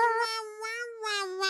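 A domestic cat gives a drawn-out, close and clear meow that wavers in pitch, dips briefly, then rises again near the end.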